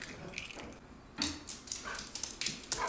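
A dog whimpers and yips in greeting close by, short whiny bursts repeating over a quiet room, with a few brief thumps between them.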